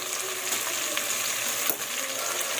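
Onions fry in oil for koshari, a dense close sizzle running throughout with faint spoon stirs and one brief scrape.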